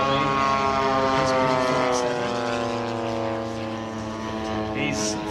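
A model P-47 propeller warplane flying at an airshow gives a steady buzzing drone with strong harmonic tones, fairly close and easing off slightly toward the end, with faint voices in the background.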